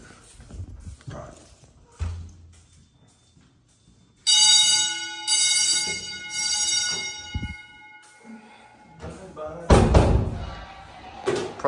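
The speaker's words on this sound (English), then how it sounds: "I can make sure the bell works in here." A fire alarm bell in a 1964 middle school rings loudly for several seconds during an alarm test, a sustained metallic clang, with footsteps, knocks and a door slam around it.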